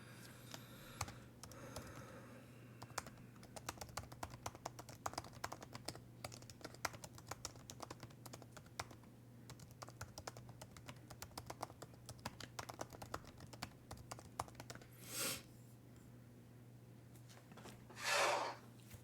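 Fast, light typing on a computer keyboard, a dense patter of quiet key clicks running throughout, with two louder brief rustles near the end.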